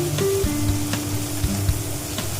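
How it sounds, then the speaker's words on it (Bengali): Ginger paste fries in oil for a fair-style ghugni, a steady sizzle with several sharp spoon knocks and scrapes against the pan over a couple of seconds, no speech. "চামচ আদা বাটা দিলাম, ভেজে নেবো লাল লাল করে"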